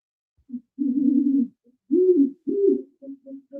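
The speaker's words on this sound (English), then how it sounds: "A great horned owl loudly calling out to its mating partner" A great horned owl hoots to its mate from a balcony railing, a series of deep, resonant hoots in an uneven rhythm, close and fairly loud with short pauses between calls.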